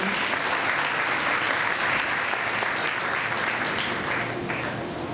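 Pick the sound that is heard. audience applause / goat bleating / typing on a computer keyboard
audience applause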